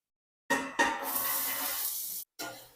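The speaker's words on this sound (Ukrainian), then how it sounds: "Цибулю смажу до золотистого кольору" Onions sizzle loudly in hot oil after a couple of sharp crackling bursts, a steady hiss that briefly cuts out and resumes.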